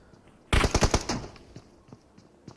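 Gunfire in a mobile battle royale esports scrim: a sudden loud burst of about six rapid shots, followed by a few scattered, fainter single shots.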